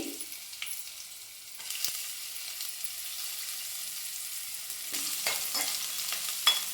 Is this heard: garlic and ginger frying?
yes